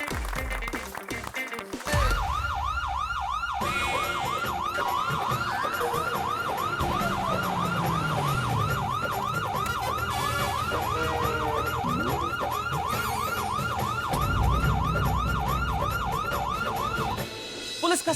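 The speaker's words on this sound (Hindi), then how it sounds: "पुलिस का सायरन यानी कि टेंशन," Police car siren wailing in a steady, repeating rise-and-fall pattern, loud and close, running continuously for most of the stretch over street and vehicle noise, with faint voices underneath.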